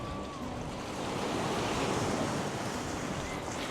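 Steady roar of surf washing onto a fairly clean beach in Vanuatu, broad and continuous, with some wind buffeting the microphone and no voices.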